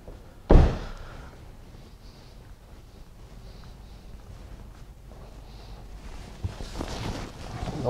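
Door of a 2015 Mercedes C63 AMG car shutting with one loud, close thud early on, followed by quiet interior rustling and a few faint knocks.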